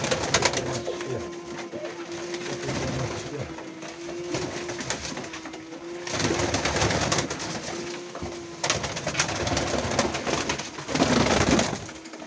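Pigeons coo in low, steady rolling calls that continue nearly throughout, close by, over a bed of rustling and shuffling noise.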